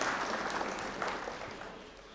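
Applause from a mushaira audience at a Saajhi Virasat poetry gathering, a dense, steady wash of many hands clapping at moderate volume that thins slightly toward the end, heard alone without speech.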